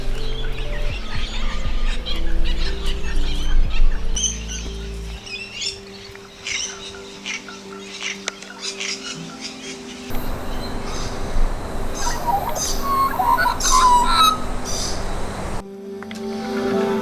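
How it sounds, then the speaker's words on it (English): Birds in Port Stephens bushland call and chirp at dawn, a mix of near and distant tweets and whistles over a low ambient hum. "all the birds are just starting to wake up now as the sun gets over the peak"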